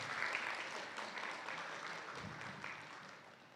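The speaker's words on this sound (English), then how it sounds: "give a round of applause" An audience at a church gathering gives a steady round of applause, a continuous wash of clapping heard somewhat distant and moderately quiet, fading slightly toward the end.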